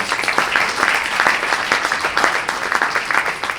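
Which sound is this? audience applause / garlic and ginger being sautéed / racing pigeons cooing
audience applause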